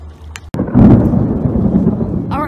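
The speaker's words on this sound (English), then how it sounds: "All right, we're about to get caught in a storm." Thunder rolls in as a storm approaches an outdoor fishing spot, a sharp crack followed by a loud, sustained low rumble lasting a couple of seconds.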